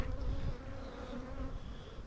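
Honey bees swarm and buzz loudly around an opened hive with white plastic frames, a dense, steady drone filling the air close by.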